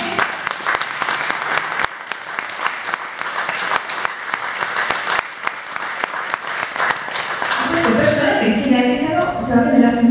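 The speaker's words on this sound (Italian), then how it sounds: "un grandissimo applauso veramente a queste persone" An audience applauds at a Nativity exhibition in Codognè, Treviso, Italy, with dense sustained clapping throughout and a swelling, more musical crowd sound joining in the last couple of seconds.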